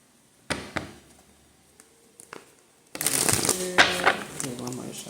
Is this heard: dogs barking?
no